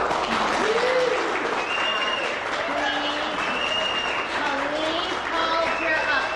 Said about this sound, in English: hold your applause until the end of the forum